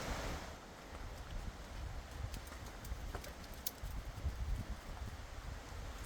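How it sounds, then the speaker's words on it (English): Steady wind on a remote island roars and buffets across the microphone, a broad rushing noise with gusty low rumble throughout, no voices. "It's really windy."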